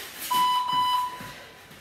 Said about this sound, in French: Le bip.